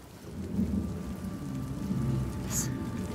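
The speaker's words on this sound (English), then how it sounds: "See the rain?" Steady heavy rain and deep rolling thunder fill a stormy scene in the video game Senua's Saga: Hellblade II. The downpour hisses continuously close by, with low rumbles swelling underneath and no voices.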